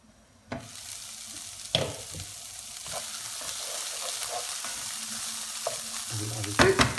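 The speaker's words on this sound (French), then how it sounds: "je rajoute mes poireaux de tout à l'heure. Et je laisse encore suer" Leeks sweat in a frying pan, giving a steady sizzle with a few stirring scrapes and clatters, a louder clatter near the end, and no talk.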